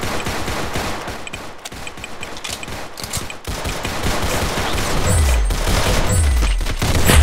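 Rapid gunfire from the video game Roblox Arsenal keeps up dense bursts of automatic shots and booms with no letup, loud and steady, plus low thuds toward the end.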